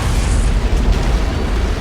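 An antimatter charge detonates aboard a ship in a Halo video game cutscene: a loud, deep booming blast with a rolling rumble that fills the whole moment, no voices over it.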